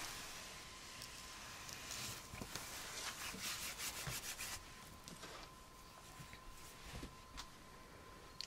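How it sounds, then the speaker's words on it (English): Excess misting ink wiped off a crafting surface after colouring leaves, a soft, steady rubbing and wiping that swells in the middle with a few brief scuffs, fairly faint and close, no talking. "So now we can kind of wipe up the excess."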